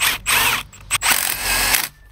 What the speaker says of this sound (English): So I'm putting a self-tapping screw.